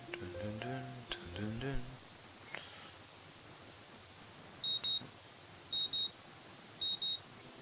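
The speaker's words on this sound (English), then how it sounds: "The sound of an alarm pulls me out of a fitful slumber" Alarm beeping in the Katawa Shoujo visual novel: three short bursts of rapid high double-beeps at a steady interval, crisp and clear, following a brief stretch of speech and soft game ambience.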